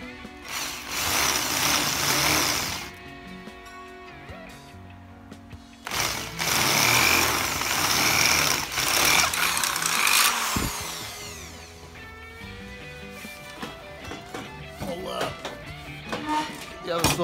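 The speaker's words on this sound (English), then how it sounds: "So we'll drill through." A drill bores through a Hobie 14 aluminum sailboat mast to fit a spanner, grinding in two sustained bursts split by a short pause, followed by scattered clinks and handling noise.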